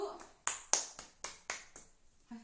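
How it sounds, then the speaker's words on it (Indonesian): A few classroom hands clapping for a student group during a mathematics microteaching lesson: about seven sharp, evenly spaced claps that ring out close and then stop, with a brief voice at the very end. "beri tepuk tangan untuk kelompok 1"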